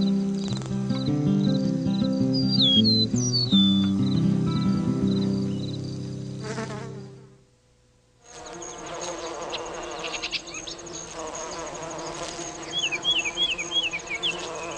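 Solitary bees buzz steadily through a garden, a continuous near insect hum with a short quiet gap partway through before the buzzing resumes just as strongly.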